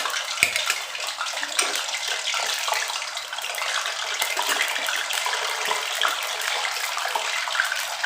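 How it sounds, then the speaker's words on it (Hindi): Peeled boiled eggs, dried of water, fry in hot oil in a pot, a loud, continuous dense sizzle and crackle with no talking. "अब ये देखें फ्राई हो रहे हैं"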